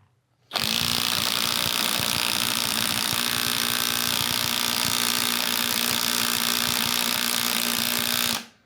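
A Snap-on CT9010 or Milwaukee 2960 18V 3/8" drive cordless impact wrench hammers on a crank pulley bolt for about eight seconds, loud and close, with a rapid rattling buzz that starts and stops abruptly.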